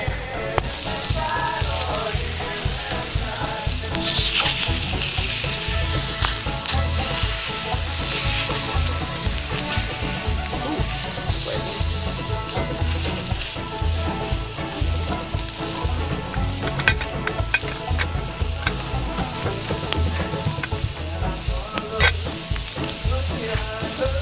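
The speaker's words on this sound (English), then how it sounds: "So we're going to turn these steaks over now" Steaks sizzle loudly in a hot pan as they are turned, a dense crackling fry with occasional scrapes and clicks throughout, and no talking.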